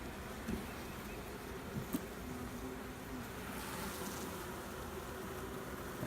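Honeybees buzz steadily around an open hive frame during a beekeeping check after a colony split. The drone is dense and continuous, with a few faint bumps and no talk.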